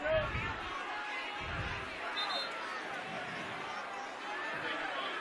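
A high school football crowd at a night game keeps up a steady, loud roar of cheering and chatter, with a few low thumps near the start and a broadcaster's voice drifting through.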